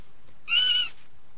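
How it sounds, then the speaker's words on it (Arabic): A barn owl out hunting in the dark gives a single short, harsh screech in open night air, fairly close and clear against a quiet background. "إنه الظلام، وبوم الحظيرة خارج للصيد."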